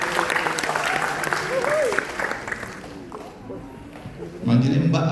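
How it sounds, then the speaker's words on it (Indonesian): An audience claps at the launch of a short film festival for working-class filmmakers, a burst of applause that fades out midway as voices and crowd murmur take over toward the end. "Tepuk tangan buat beliau ya."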